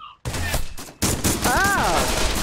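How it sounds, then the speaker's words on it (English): Rapid bursts of gunfire in the virtual-reality shooter game Pavlov, several sharp close shots after a brief silence, with a voice briefly heard. "I'm getting shot at right now in Pavlov"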